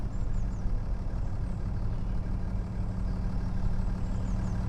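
A worn vehicle engine in poor health drones low and steady in a video game, a continuous rough rumble at a constant pitch with no pauses, fairly close.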